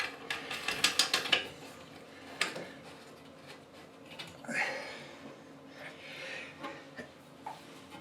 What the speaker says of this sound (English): Go ahead and tighten that up to the bottom of the tank, and we'll get that snugged in.